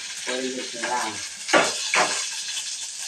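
Steady hiss of hot oil sizzling close by as mustard seeds fry, with brief crackling bursts and a voice talking over it.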